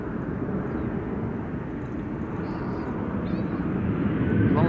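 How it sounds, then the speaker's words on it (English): An Airbus A350 airliner at Amsterdam Schiphol Airport produces a loud, continuous engine roar that grows slightly toward the end, heard at a distance. "Chinese A350 is unfortunately going to the wrong runway."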